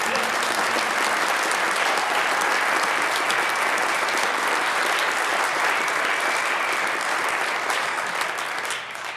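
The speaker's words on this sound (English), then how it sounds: "Can we get a round of applause for Bob Kendrick?" Loud, sustained applause from a large crowd at an awards ceremony, dense clapping that continues steadily throughout and eases off slightly at the very end.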